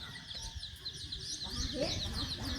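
Chickens cluck and chatter nearby in a rural outdoor setting, repeated short calls over a steady murmur of background voices and ambient noise.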